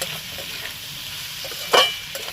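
Spices such as chilli and cumin powder being stirred into a fish curry of mourala fish with raw tomato in a pan, a low sizzle under a brief, louder scrape of the spoon near the end; no talking.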